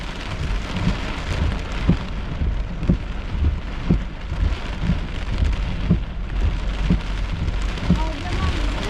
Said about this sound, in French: Oh, il y a quand même du vent là-dedans.